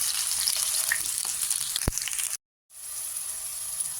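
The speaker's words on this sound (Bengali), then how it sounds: "আলুটা একটু ভাজা ভাজা করে নেব, একটু লালচে রং হওয়া পর্যন্ত" Potatoes fry in oil in a pan with a constant close sizzle while being browned for ghugni. One sharp click breaks in midway, then a brief silent gap, and the sizzle resumes.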